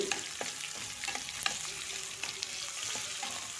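A large chopped onion frying in oil in a pan for vegetable uppittu, a quiet, steady crackle with light stirring taps, close by.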